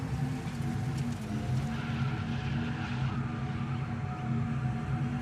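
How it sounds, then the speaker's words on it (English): A heavy electric Porsche Taycan slides sideways through a drift in the racing game DIRT 5, a steady droning motor whine with tyre scrub rising and falling throughout, loud and continuous with no voices. "Drifting a Taycan."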